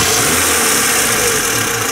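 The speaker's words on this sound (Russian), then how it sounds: "Давайте, заводите машину." A car with a 7-20 carburetor running: a loud, close engine idling with a steady low throb and slight unevenness, holding at a constant speed throughout, no voices.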